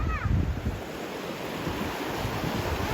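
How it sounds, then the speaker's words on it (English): Water flowing at Avalanche Lake in Ooty, a steady rushing wash mixed with strong wind buffeting the microphone, continuous and fairly loud, with a brief faint voice at the start. "Just listen to the sound of the water."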